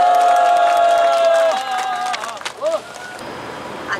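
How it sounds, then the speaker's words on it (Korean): Crowd at an outdoor memorial rally near Songnae Station cheers and applauds to welcome a speaker, loud at first, then fading into scattered claps and murmurs. "박수로 모셔주시기 바랍니다."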